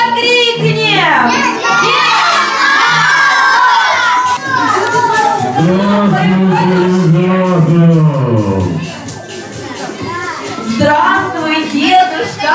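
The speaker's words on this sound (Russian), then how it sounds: "Позовем его всерьез, громко крикнем!" A crowd of kindergarten children at a New Year's party shout together loudly, calling for Grandfather Frost in a long chant, with an adult's voice leading and children's voices filling the room throughout.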